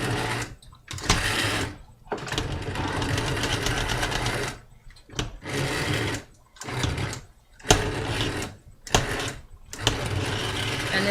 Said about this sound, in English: and then I would blend it all up. Okay, high heat, high speed.